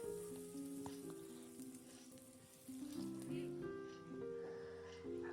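Local chicken frying with ginger and garlic in a pan, a steady close sizzle with stirring, under a soft background melody and occasional quiet speech.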